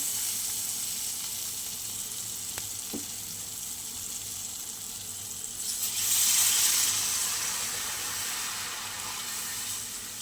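Water poured into a hot frying pan after frying sets off a loud hissing sizzle that swells partway through and then stays as a steady bubbling hiss, close by, with no talking.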